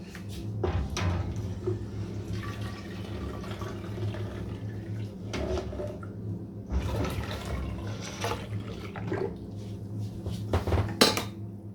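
Dishes clatter and clink near at hand while hot water runs intermittently, with brief splashes and scraping of pots and utensils; no one speaks.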